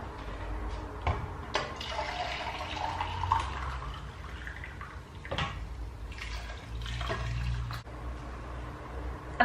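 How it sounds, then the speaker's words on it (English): Boiled water gushes from a can into a pan of chickpeas, vegetables and dried apricots for a vegetarian tagine, a steady close pour with splashes and a few clinks, fairly quiet. "I'm also just going to add 1 can of boiled water."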